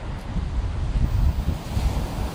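Ocean waves break on a winter beach under strong wind, with a continuous roaring surf wash and rumbling low wind buffeting the microphone, steady and close.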